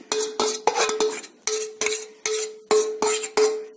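A spoon stirs and scrapes a methi laddu mixture into a jaggery syrup in a metal pan, with about ten steady, loud, rhythmic strokes ringing against the pan.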